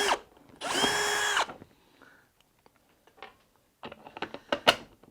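A power drill bores a hole through a plastic Bonafide SS127 kayak dry pod during a fish finder mount, giving one short loud whining burst, followed by small clicks and taps as the part is positioned.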